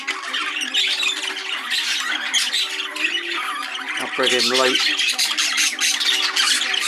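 Exhibition budgerigar cock birds squawk and chatter continuously in a birdroom, a dense layer of shrill calls with a brief louder burst midway, while someone talks over them.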